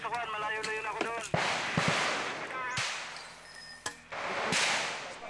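Sharp gunfire cracks ring out during a 2007 armed encounter in Basilan, several loud isolated shots with echoing tails, with a brief voice-like cry at the start.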